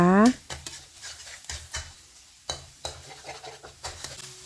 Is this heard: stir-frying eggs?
yes